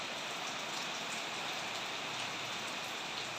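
Steady rain pours down evenly, a dense hiss of drops on surfaces with no pauses or voices.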